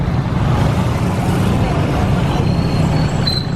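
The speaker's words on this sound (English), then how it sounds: "Traffic's coming off the main road over by Astro Park." Dense traffic rolls along a busy road in Angeles City, Philippines, a constant loud wash of engines and tyre noise with a brief high brake squeal near the end.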